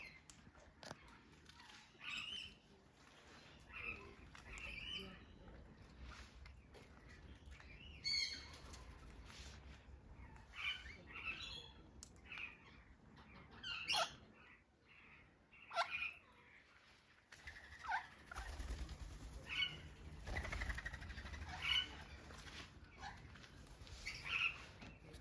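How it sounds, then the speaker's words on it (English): Alexandrine parakeets at a bird park give sharp, scattered calls and chirps, some near and loud, others fainter, over a low background rumble with occasional wing or movement noise. "Alexandrine parakeets."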